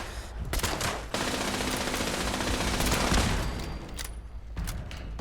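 Automatic turret in the Fallout 76 video game fires sustained bursts of gunfire across most of the clip, loud and close, with brief gaps and renewed shots near the end; no one speaks.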